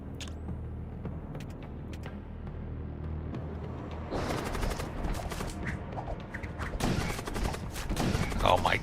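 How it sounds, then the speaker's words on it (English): Gunfire in a video game as squads fire on the weapons room, rapid bursts and crackling volleys that grow louder and denser partway through, over a low rumbling background. "And we'll shoot the weapons room."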